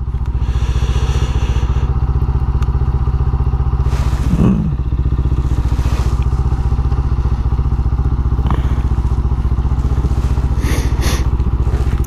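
A motorcycle engine rumbles steadily up close throughout, a continuous low drone with occasional thumps and clatters from the ride over rough ground.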